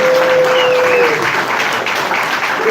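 Audience at the Laugh Factory comedy club breaking into loud, dense applause that fills the room steadily, with a whistle cutting through near the start.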